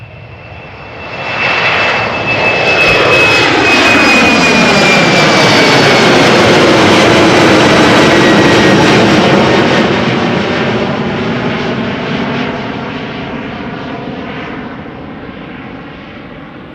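A jet airliner departs from runway 36L at Amsterdam Schiphol in showery weather, its roar swelling loud and close with a rising whine, then fading slowly into the distance.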